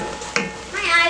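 Onions browning in a pot for chili beans give a brief sizzle with a stir, close and moderately loud, lasting about a second.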